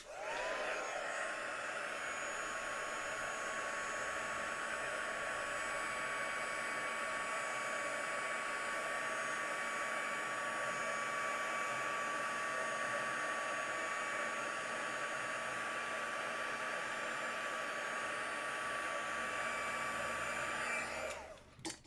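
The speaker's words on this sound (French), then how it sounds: "je vais juste mettre à chauffer avec le pistolet chauffant sur position 2" A heat gun on setting 2 melts gold embossing powder, a steady close blowing roar with a whining fan tone that holds evenly for about twenty seconds, then cuts off.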